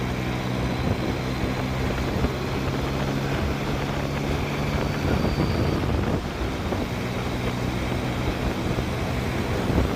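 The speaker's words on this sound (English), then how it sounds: "It's a little bit windy today, but it's still very warm." Wind roars steadily past a rider on a Yamaha FZ-09, a 900 cc street bike, on a warm, breezy day, with a dense, unbroken rush of buffeting noise throughout.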